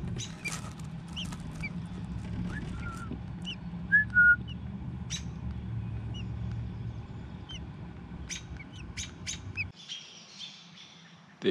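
Baby birds call with scattered short chirps and whistled peeps over a low background hum, a few louder squeaks standing out before things quieten near the end.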